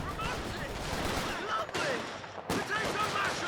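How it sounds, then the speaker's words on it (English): Company of Heroes 2 battle fire, a dense barrage of overlapping gunshots and artillery blasts in a continuous loud roar with sharp cut-offs. "Right as the incendiary nade hits."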